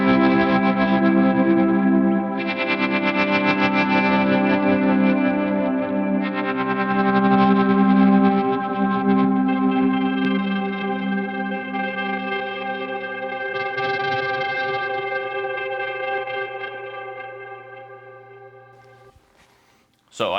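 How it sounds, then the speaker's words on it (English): Electric guitar playing a worship song through drive, delay and a ramping tremolo, sustained overdriven chords with echoing repeats and a pulsing wobble, loud and alone for about twenty seconds before cutting off abruptly. "Here's the drive and all and delay"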